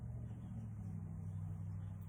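Steady low rumble of road traffic, a continuous engine drone with no breaks, moderately loud and close.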